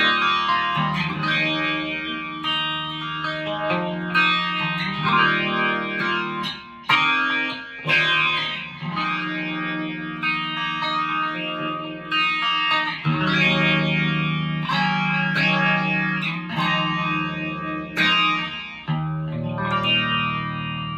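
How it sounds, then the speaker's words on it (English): Electric guitar run through a rotary speaker effect, a steady stream of chords and notes with a swirling, chorus-like warble, loud and continuous with no talking. "here is let me show you what the rotary does"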